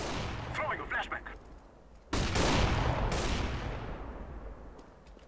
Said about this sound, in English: I'm throwing smoke. Throwing a flashbang.